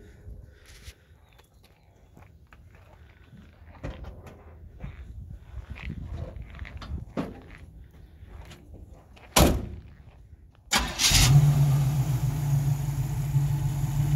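On a 1968 Chevrolet C10 pickup, soft creaks and shuffling come first, then a sharp door thud, before the engine cranks and catches into a loud, steady idle that runs to the end.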